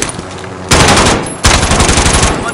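Automatic gunfire in the military shooter video game Operation Indiana, coming in two sustained loud bursts of rapid machine-gun fire after a quieter opening, close and dense, with no talking.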